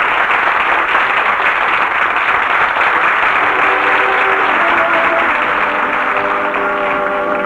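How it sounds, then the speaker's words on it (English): A first-night theater audience off Times Square applauds loudly and continuously, a dense, steady roar of many clapping hands with faint musical tones emerging beneath it toward the end. "Listen to them applaud."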